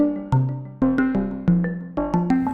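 Elektron Digitone II polyphonic synthesizer playing a plucky, bell-like melodic sequence of sharp notes with quick decays, clear and alone.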